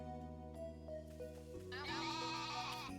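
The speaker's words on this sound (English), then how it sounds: "Sheep in this game are loud." Sheep bleating in the farming video game Story of Seasons: A Wonderful Life, a loud, steady synthesized bleat that rises midway and holds over sustained game music, with no talk.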